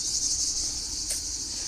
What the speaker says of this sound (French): Ah, c'est des cigales.